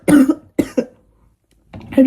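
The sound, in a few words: coughing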